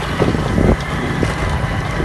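Cool wind rushes past while riding a motorbike along a road through green village fields, heavy buffeting gusts on the microphone over a low engine rumble, with no speech.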